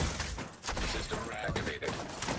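Automated turrets in The Division 2 unleash a dense, continuous burst of gunfire with rapid cracks and thuds, loud and close, filling the whole short stretch.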